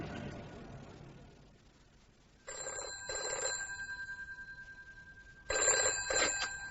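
A telephone bell rings in an audio drama, two bursts of ringing clearly separated by a pause, fairly close and moderately loud, with a quiet murmur before it starts.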